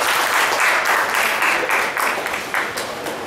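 An audience at a press club event applauds steadily, loud and sustained, with dense clapping throughout.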